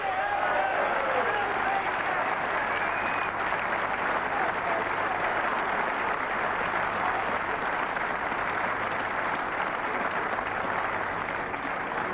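Sustained applause from a large crowd inside the Crucible Theatre as a player is introduced at the 2005 World Snooker Championship semi-final, a dense, steady wash of clapping lasting throughout at full level.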